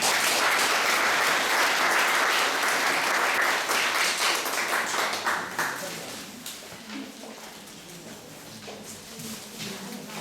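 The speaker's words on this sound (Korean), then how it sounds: "큰 박수로 고선희 담당자님을 모시겠습니다." Audience applause in a hall, loud dense clapping from a crowd welcoming a Jeju City social welfare official onto the stage, gradually thinning and fading over about ten seconds.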